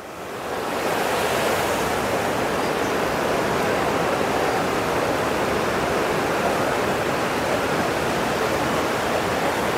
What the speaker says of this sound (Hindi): मैं इधर भी आपको दिखा देता हूँ किस तरह से नदी में पानी ये बह जा रहा है।